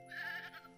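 A person's voice imitates a goat bleat, one short quavering "baa" that is moderately quiet and stands alone.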